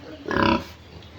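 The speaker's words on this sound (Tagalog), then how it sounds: "Baboy oh. Baboy sa kong isuon." One pig in a piggery lets out a short, loud grunt, close by, over a quiet farm background with no talking.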